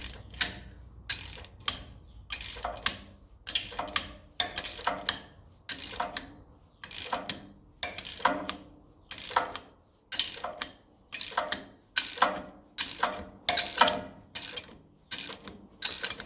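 A bar levers at fine, fairly rusty threads on a 1957 Ferguson FE35 TVO tractor, giving about twenty sharp ratcheting clicks at a steady, close rhythm with quiet gaps between them.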